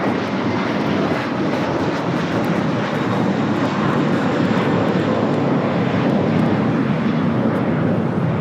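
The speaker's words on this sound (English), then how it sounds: "That is American Flight 12 taking off to Boston on the A321" American Airlines Airbus A321 jet roaring on takeoff from Los Angeles International Airport toward Boston, a loud, continuous, broadband engine rumble that stays strong and steady from start to finish.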